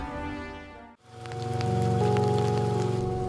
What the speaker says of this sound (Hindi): बारिश बहुत तेज है, कहीं भीग न जाना।